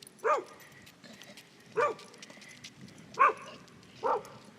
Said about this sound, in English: We got a strange dog.